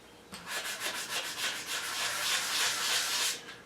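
English walnut HW80 gunstock sanded by hand with 120-grit paper, a steady run of close, rhythmic rasping strokes repeating for several seconds with no voices.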